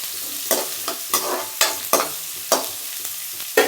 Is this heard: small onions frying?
yes